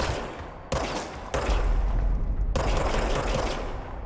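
The service weapon in the video game Control firing in rapid bursts, dense loud automatic shots that start abruptly, pause briefly and resume, close and without talking.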